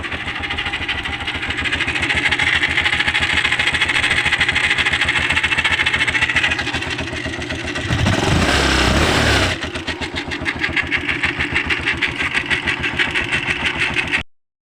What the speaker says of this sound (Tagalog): sobrang ingay yung makina